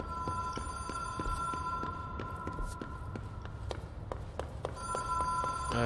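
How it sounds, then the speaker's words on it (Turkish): A telephone ringing in the video game Control, faint repeated electronic tones against a low hum with soft ticking pulses, a steady drone throughout. "Telefon çalıyor zaten."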